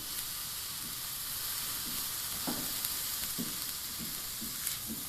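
Carrots frying in a pan, giving a constant bright hiss of sizzling oil with a few soft stirring knocks at intervals, close and steady with no talking.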